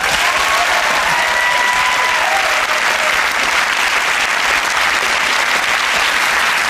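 A studio audience at a TV comedy panel quiz show gives loud, sustained applause, dense clapping filling the room steadily from start to finish with a few faint voices underneath.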